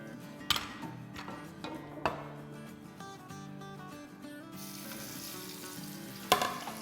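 Fish sizzles and fries in a pan as a second batch goes in, with steady crackling and a few sharp clinks and taps against the cookware.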